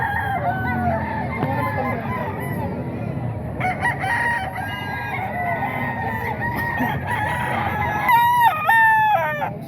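Roosters crow repeatedly among other fowl at a Filipino gamefowl sale, with several overlapping cock-a-doodle-doos, some near and loud, over a busy background of clucking and distant voices.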